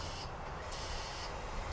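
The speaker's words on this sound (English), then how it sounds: "It's now spraying. It's in its dosing state." A diesel exhaust fluid override pump sprays while in its dosing state during a hands-on test, producing a steady, close, even hiss with no break.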